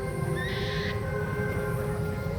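Alien birds calling in a Star Wars Batuu theme-park forest ambience: a short bright whistling call rises over a steady droning background, with faint tonal hoots lingering.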